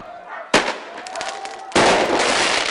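Sharp firecracker bangs burst out during a nighttime street riot in a commercial district, with bricks flying and flames burning; a loud crack hits early, crowd noise runs beneath it, and then a dense roar of blasts and shouting takes over.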